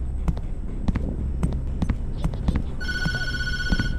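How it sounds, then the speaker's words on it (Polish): Telephone ringing in the Tattletail horror video game, a repeated electronic ring in regular bursts over a low throbbing hum with soft knocks, fairly loud and without voices. "Nie odbieraj telefonu."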